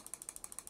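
Right button of an MSI Clutch GM31 wireless gaming mouse clicked about nine times in quick, even succession, each a sharp, light, close tick with no voices.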